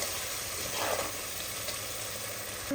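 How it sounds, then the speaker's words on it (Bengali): Spice paste frying down in a pan with a little added water for goat liver curry, a soft continuous sizzle close by with a faint scrape midway, no talking. "দেখেন মশলাটা কষিয়ে নিচ্ছি।"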